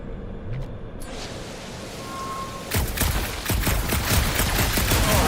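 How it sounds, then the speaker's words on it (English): Rapid gunfire aimed at a gunked-up reactor in the Guardians of the Galaxy game, starting quieter and then erupting into a dense, loud volley of repeated shots over a hissing, rain-like wash. "A couple of shots should bring it down."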